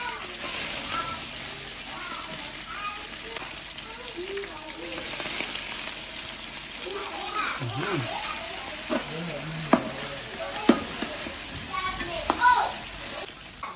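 Rice frying in a pan for Filipino sinangag garlic fried rice, a steady loud sizzle with scraping stirs and occasional clatters of the spatula, while a person talks intermittently over the cooking.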